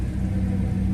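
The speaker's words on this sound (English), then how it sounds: "You can hold the gas to accelerate the process of it warming up" A 2019 Honda Accord engine held at raised revs while warming up during a coolant flush, a steady low rumble that stays even and close throughout.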